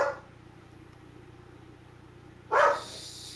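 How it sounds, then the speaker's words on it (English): A dog gives one short, muffled bark at the start and a louder bark near the end, both from a little way off, against a steady low hum in a quiet room. "I apologize for the dog."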